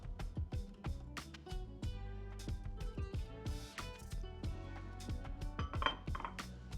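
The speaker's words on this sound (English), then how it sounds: "We're gonna toss these in olive oil." Chickpeas tossed in olive oil inside a bowl give a run of close, irregular clinks and knocks, with the ware rattling in quick uneven bursts for several seconds and no voices.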